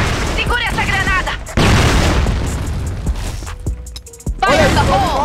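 A grenade goes off in a video game as a loud, heavy boom that swells and fills the mix, among other gunfire and game effects, with voices talking around it.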